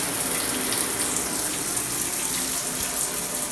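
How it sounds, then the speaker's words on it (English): A running shower spraying water, a steady hissing splash that stays loud and constant with no pauses. "It's the shower"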